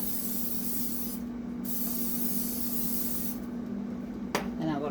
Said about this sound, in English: I'm just going to spray my waffle iron here.